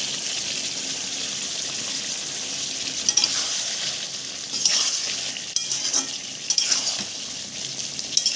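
Raw hilsa fish coated in salt, oil and turmeric sizzling in a hot wok, a loud steady close hiss with bursts of spattering and a few utensil clinks, no talking.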